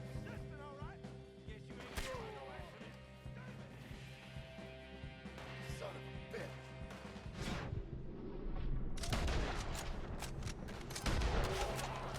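Gunshots in Red Dead Redemption 2 are fired at a rock, with loud, sharp cracks and booms bursting over a layered game soundscape that swells near the end.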